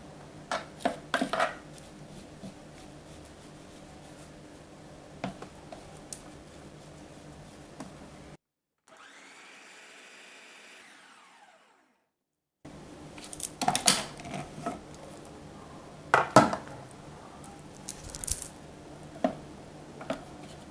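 A spoon scraping and clinking against a food processor bowl holding a chocolate mixture, a series of close, sharp taps and scrapes with a silent gap partway through.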